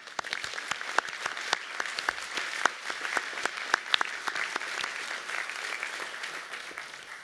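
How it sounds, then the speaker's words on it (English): Graduates and guests at a university business school graduation ceremony applaud enthusiastically, a steady wash of many hands with distinct sharp claps standing out, sustained for several seconds. "my notes now call for enthusiastic applause from the audience"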